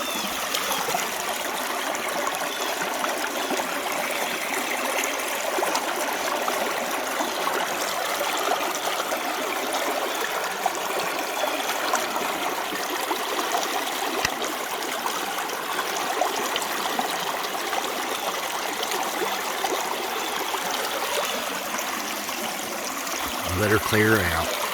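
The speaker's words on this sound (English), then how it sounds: "There ain't nothing like the sound of the creek." A creek flows steadily with a broadband, continuous rush and trickle of water, close and even throughout, while a brief low knock lands near the end.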